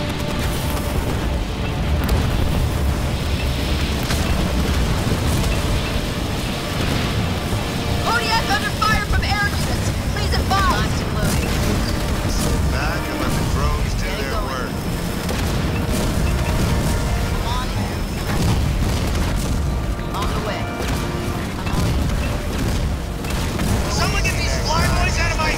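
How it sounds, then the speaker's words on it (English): Heavy artillery shelling and explosions in Halo Wars 2, a dense and continuous rumble of booming blasts that fills the whole stretch at steady loudness, with no talk over it. "I'm getting hit from artillery on here."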